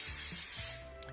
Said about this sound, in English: I use a vegetable spray cooking oil to make the grill not stick